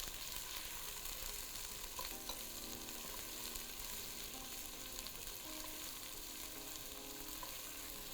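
Three finely chopped medium onions fry in a pot over the flame with a soft, steady sizzle and faint stirring clinks.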